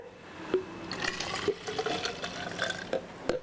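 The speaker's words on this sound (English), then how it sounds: "Add the water." Water is poured into a blender holding chopped turmeric, a soft, close trickle and splash with small gurgles and taps from the container, fairly quiet and with no voices.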